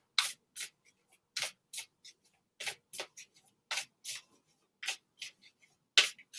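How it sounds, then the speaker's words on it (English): Oracle cards being shuffled, close and fairly quiet, in short irregular bursts of papery swishes and slides separated by brief silences. "I am shuffling through the Oracle of the Seven Energies."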